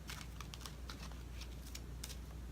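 Soft, rapid papery flicks and taps in quick irregular bursts, close by, as tarot cards are riffled and shuffled by hand against a steady low hum.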